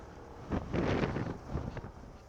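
Strong wind buffets the microphone in gusty surges at a scenic roadside stop on a solo Honda Beat motorcycle ride from Rizal to Malico, San Nicolas, Pangasinan, faint and rushing with no voices.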